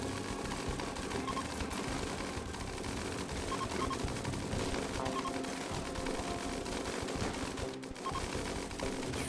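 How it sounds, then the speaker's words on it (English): Chain shotguns in RimWorld blasting in rapid, dense bursts, a continuous crackling barrage that stays loud throughout, with a short dropout near the end. "Friggin' chain shotguns."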